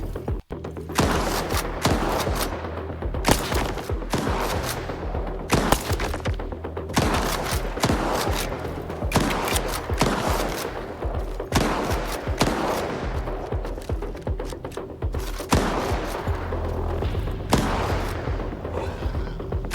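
Sustained gunfire in STALKER 2: Heart of Chornobyl, dense volleys of rapid shots and heavy thuds repeating throughout, loud and close, with no talk over them.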